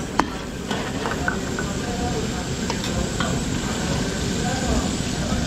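Onion sautéing in cooking oil in a large wok at a catering kitchen, a dense continuous sizzle with scattered clinks of a utensil against the pan.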